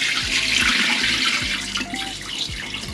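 Tap water runs steadily into a sink while something is washed and rinsed under the stream, a close, continuous splashing gush with no voices.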